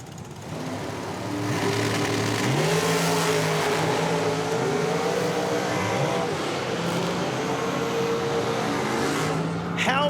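Two big-block dragsters race at a drag strip, one a 615 cubic inch big block and one a Nesbitt 632, their engines roaring and rising in pitch as they launch and pull away, loud and sustained for several seconds.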